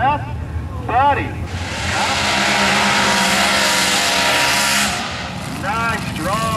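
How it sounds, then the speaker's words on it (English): A drag car in a nostalgia Super Quick series race at a drag strip performs a loud tire burnout, a sustained roaring screech of engine and spinning tires lasting a few seconds, with people talking before and after. "Nice, strong burnout as Peter does."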